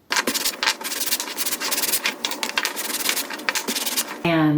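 Wood being sanded by hand in quick, rhythmic back-and-forth strokes, close up; a voice briefly starts at the very end.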